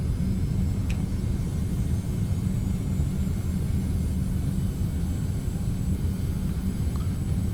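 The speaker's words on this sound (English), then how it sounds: "Hey, both reversers, please." An airliner landing at Detroit with both thrust reversers deployed gives a continuous, heavy, broadband roar. It holds steady at close range from inside the cockpit, with no voices over it.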